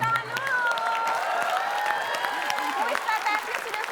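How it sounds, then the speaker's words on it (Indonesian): A studio audience at a televised Indonesian cooking competition bursts into steady applause, a dense wash of clapping that continues throughout, with voices and music running over it. "Kita kasih tepuk tangan dulu."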